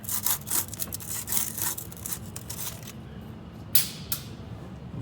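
A band wrench gripping and loosening the oil filter on a 6.7 Ford diesel, rhythmic scraping and rubbing strokes close by, then a pause and a couple of sharper scrapes.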